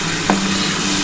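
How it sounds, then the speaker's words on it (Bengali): Spiced water poured into masala frying in a pan while cooking a rohu fish bhapa, giving a short splash and a quick sizzle burst over a steady, close frying hiss. "আমি কিন্তু এই যে মশলার যে জলটা আছে এই জলটা একটু দিয়ে দিলাম"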